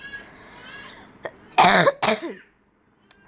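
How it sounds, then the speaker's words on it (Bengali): Two loud, raspy coughs close to the microphone, preceded by faint background sound and a short click, then near silence. "কাশি চলে আসছে, অনেক কাশি।"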